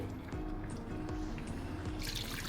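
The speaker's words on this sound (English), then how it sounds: "now I'm just gonna add in a little pani" Water poured into chicken karahi simmering in a pan, a steady close liquid splash and trickle over low sizzling, brightening toward the end as the flow continues.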